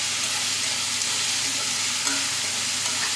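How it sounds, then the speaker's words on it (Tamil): Onion and tomato with salt sauté in a pan for a spinach and moong dal dish, a constant close sizzle with faint stirring scrapes, no voices. "உப்பு போட்டு வதக்கும்போது சீக்கிரமாக வதங்கிடும்."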